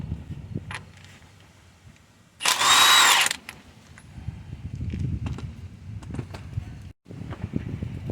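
Power tool, likely an impact gun, removing a 22mm crankshaft pulley bolt on a Hyundai engine, one loud whirring burst of about a second amid quiet workshop clatter and handling noise.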